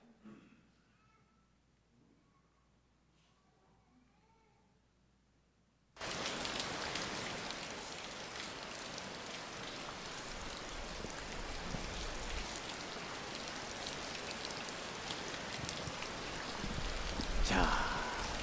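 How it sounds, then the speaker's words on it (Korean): Steady rain pours down, dripping off the eaves of a roof, a dense, even hiss that starts abruptly after a few seconds of near-silence and continues at a constant level. "빗소리"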